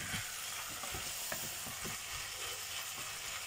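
Onions frying in a pan for pasta bolognaise are stirred, giving a steady close sizzle with soft scraping strokes throughout and no talking.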